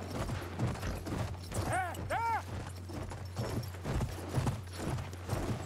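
Horse hooves in Battlefield 1 on a Sinai Desert conquest map clop steadily under a constant game engine drone, with a brief whinny-like tonal call near the middle.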